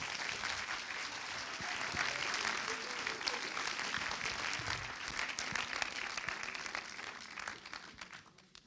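Audience at a Brussels film premiere applauds the producers as they come forward, steady crowd clapping with sharp individual claps standing out, fairly distant, continuing for several seconds before easing off.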